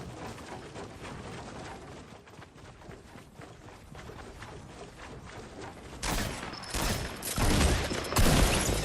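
Gunfire in a fast-paced shooter video game with a shotgun in use, a steady rattle of distant shots followed by several louder, sharper blasts near the end.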